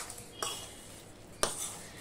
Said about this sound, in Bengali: এবার চিনিটা আমি পুরোটা মাখিয়ে নিচ্ছি আমের গায়ে